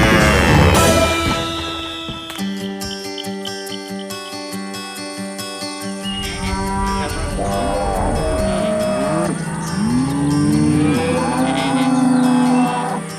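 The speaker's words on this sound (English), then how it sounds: "Mustering or moving cattle around the confines of a farm, feedlot or sale yard is risky business." Cattle on a farm moo repeatedly in long, drawn-out calls, loud and close, over a tonal musical background with no talk.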